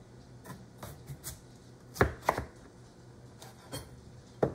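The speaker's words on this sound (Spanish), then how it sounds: "Ahora vamos a cortar la papa." A knife chops potatoes on a cutting board, making irregular sharp thunks, some close together in pairs, over a steady low background hum.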